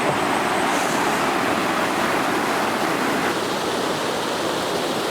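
Rushing water roars steadily and loudly up close, a constant broadband flow like a fast river, with no voices.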